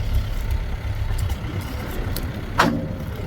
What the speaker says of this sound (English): Tractor's just idling.